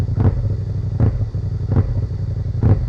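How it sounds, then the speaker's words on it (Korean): Deep engine rumble with four evenly spaced revs of a Kymco AK550 big scooter's aftermarket exhaust, each surging briefly then dropping back to idle, heard close up. "배기가 돼 있어서 딱 느낌 옵니다 들어보실래요?"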